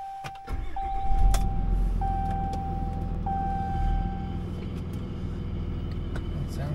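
A Dodge Ram 3500 truck with a freshly rebuilt Mercedes G56 transmission idles with a steady low engine rumble indoors in a shop, with a brief rise in revs and faint chiming tones.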